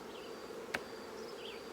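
Honeybees at an open hive hum in a faint, steady buzz, with a single brief click partway through.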